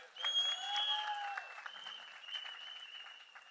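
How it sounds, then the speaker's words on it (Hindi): An audience applauds steadily, with many hands clapping in a continuous wash. Sustained musical tones play faintly over the applause, and it fades slightly toward the end. "तालियां बजाइए अपने भारत के लिए।"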